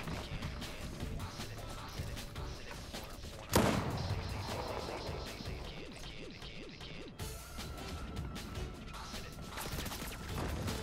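Gunfire in the video game Fortnite, with a sharp burst of shots and crashing impacts amid steady game noise, moderately loud, with no clear talk.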